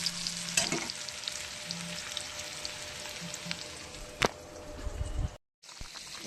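Onions fry in a pan with a continuous close sizzle and occasional stirring clacks, one sharp knock midway and a brief drop to silence near the end, with no talk.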